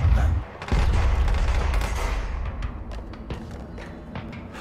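Gunfire in the video game Control, a dense burst of shots loud at the start then continuing as a busy, rapid clatter of impacts for several seconds with no talking.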